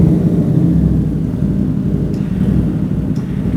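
A custom widebody motorcycle engine revs in neutral with a deep, steady, loud rumble up close and no talking.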